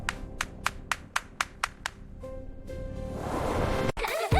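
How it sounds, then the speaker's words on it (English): About eight sharp hand claps in a steady rhythm fill the first two seconds, close and clear. They are followed by a rising tonal swell and brighter musical sparkle, with no talking. "Can you clap with BUBU?"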